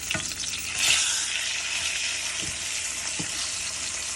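A chicken burger patty frying in a pan just after flipping, a loud continuous hiss and sizzle with a swell near the start and a few faint taps underneath, no talking.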